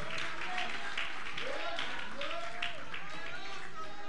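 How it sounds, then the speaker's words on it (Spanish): A church congregation applauds for Christ during a service, producing dense, continuous clapping under a preacher's voice and some crowd noise, with the clapping fairly distant and even throughout. "Un aplauso fuerte, hermano, fuerte para Cristo."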